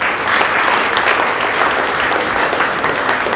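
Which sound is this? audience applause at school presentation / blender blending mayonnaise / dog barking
audience applause at school presentation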